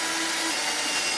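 A drill bit boring a pocket hole through wood, a brief continuous whirring grind with broadband rasping, close and steady throughout, with no talking.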